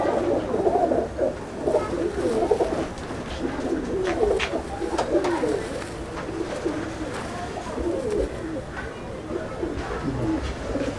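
Kalanka pigeons coo repeatedly in a loft, with soft overlapping calls throughout and a person talking over them.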